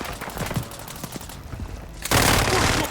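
Video game gunfire in a military shooter with shotgun and pistol: a rattling burst of shots and rapid pops, then a sudden loud, dense blast of noise near the end, with no talk.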